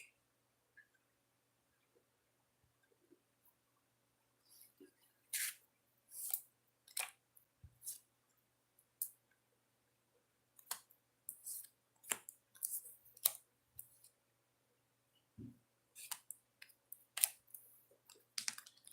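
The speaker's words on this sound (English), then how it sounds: "So I'm going to shuffle the deck and then we'll get to you, self-employed people." A deck of oracle cards shuffled close by, producing quiet, irregular papery clicks and flicks that start sparse and grow busier, with faint background hum and near-silence at first.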